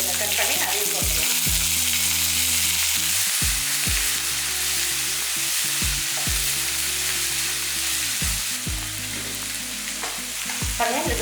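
Chopped large onions and curry leaves fry in hot oil in a pan, a loud continuous sizzle and crackle with repeated clanking stirs of a spoon against the pan, no voices.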